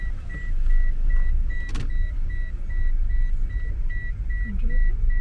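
A car being driven, with a steady low engine and road rumble, a brief clunk partway through, and a repeating electronic chime beeping at regular intervals over the drive.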